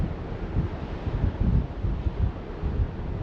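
Strong wind buffeting the open deck of the Carnival Spirit cruise ship, a continuous low roaring rumble with gusty surges, loud and close, with no talking.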